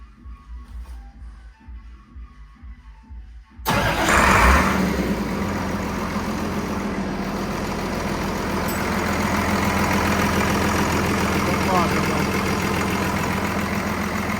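A ZIL 4331 truck fitted with a turbocharged Mercedes engine with intercooler, about 240 horsepower, cranks and fires after a quiet stretch, then settles into a loud, steady, close rumbling idle.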